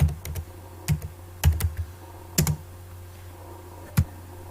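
Sparse keystrokes on a computer keyboard, a few scattered clicks and small clusters of taps close by over a quiet room hum, with no speech.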